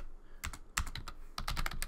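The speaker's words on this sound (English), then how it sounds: "And we're going to type in" Quick bursts of computer keyboard keystrokes, close and crisp, in three clusters separated by short pauses, with no talking.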